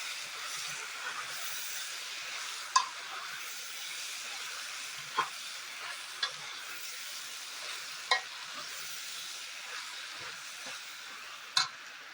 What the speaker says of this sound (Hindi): इसके बाद हम ये सारे मसाले अच्छे से मिक्स करेंगे।